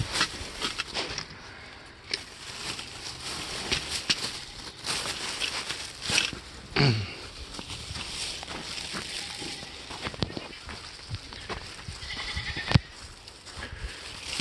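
Large farm goat bleating outdoors near livestock, one short bleat amid rustling, footsteps and background noise, fairly faint.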